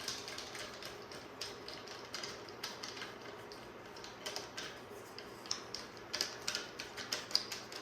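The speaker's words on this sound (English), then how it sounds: "Just gonna get these action screws started." Action screws being turned into a rifle stock during a home bedding job, heard as a quiet run of small, irregular clicks and ticks close by, with no talking.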